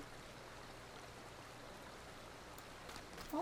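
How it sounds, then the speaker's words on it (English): Rain falling in Final Fantasy XIV: a soft, steady hiss of rainfall as an even wash of sound, faint and continuous, with a slight swell near the end. "Oh my gosh, it's raining!"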